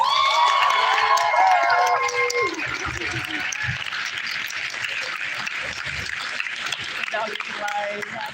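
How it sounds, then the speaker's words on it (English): Audience at a Smoky Mountain fan fest panel breaks into clapping and light cheering for the panelists; a voice talks over the start before fading, then sustained, moderately loud crowd applause continues. "Give them another round of applause"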